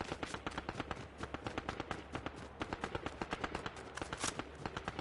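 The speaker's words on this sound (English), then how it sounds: "So let's go towards the gunfire." Rapid bursts of gunfire from the video game Fortnite crackle continuously, dense and sharp shots in quick succession, fairly loud with no talking.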